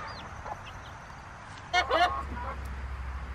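Young chickens losing their down and growing feathers give a short burst of close clucks midway, over a low steady outdoor rumble.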